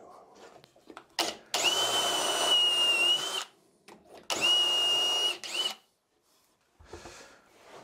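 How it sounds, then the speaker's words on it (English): Power drill boring dowel holes into a wooden tabletop in two long whining bursts between short taps and pauses, close and loud. "So after drilling all the holes, I have some test dowels"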